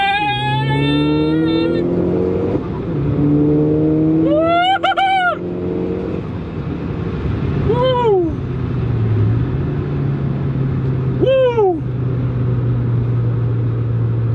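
VW Golf Mk6 GTI turbo car accelerating hard from inside, engine climbing through several gears with rising whines and quick shift breaks, loud and close, and someone talks briefly over it.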